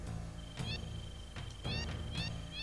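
Cat meows from the video game Final Fantasy VII, a few short calls spread across the clip over a steady game music bed.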